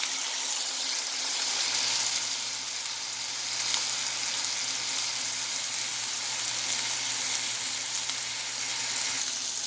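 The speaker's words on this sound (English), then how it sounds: "That's the grease heating up for the fries." Grease heating in a pan for frying fries, a steady close hiss and crackling sizzle that holds evenly throughout with no talk.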